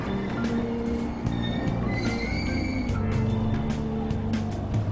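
A train in the video game Persona 5 rolls past steadily with continuous rumbling and metallic wheel squeal, loud and close, with no talk over it.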